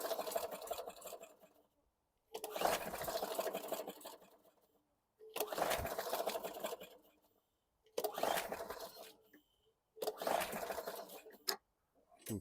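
A lawn mower engine, fitted with a spark plug taken from a running machine, cranks in five separate bursts of about two seconds each, loud and close with gaps between, briefly catching and then failing.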